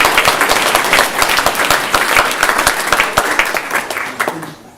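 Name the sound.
audience applause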